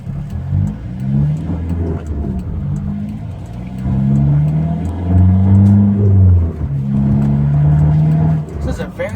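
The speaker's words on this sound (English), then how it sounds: "I like that little kind of clattery hum of the diesel engine." A 2005 Volkswagen Jetta Wagon TDI with a diesel engine drives along, its steady engine hum and drone continuing beneath a person speaking throughout.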